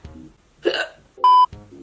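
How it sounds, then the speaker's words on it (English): A person hiccups sharply, with a few soft breathy sounds and murmurs around the hiccups, close and loud. "Sorry, I have hiccups."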